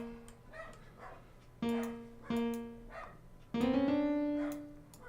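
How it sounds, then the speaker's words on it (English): A dog barks and yips in several sharp bursts with tonal, whimper-like overtones, close and clear, spaced unevenly across a few seconds in a quiet room. "dog barking"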